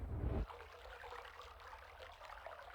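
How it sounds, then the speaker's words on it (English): Water trickles faintly in the video game Myst, a soft, continuous dribbling after a brief louder burst at the start, quiet and alone. "Okay, so this is water."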